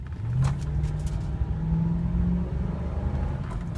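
Mercury Grand Marquis 4.6-liter V8 roars as the car accelerates from a stop, a loud, steady low engine rumble with the pitch climbing through the revs, no talking.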